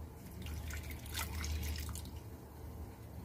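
Warm water poured into a bowl of sugar and instant yeast gives a steady, soft splashing trickle, close but fairly quiet over a low background hum, with no voices.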